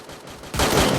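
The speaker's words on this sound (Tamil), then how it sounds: "டவர் வெறும் டவரை சுட்டுக்கிட்டு இருக்கான்டா ஜெகநாதவன்." Gunfire from the Free Fire video game bursts in suddenly halfway through, a loud, dense volley of rapid shots following a quieter stretch of game ambience.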